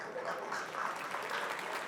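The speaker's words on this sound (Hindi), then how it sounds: "जब भी अच्छा लगे तालियां बजा दीजिएगा" An audience claps through a brief, continuous, moderately distant ripple of applause.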